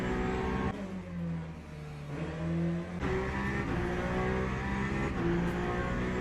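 Peugeot race car in a racing video game (LMU online event at Spa) roars past, engine note rising and falling with revving and gear changes, loud and continuous throughout with no talk.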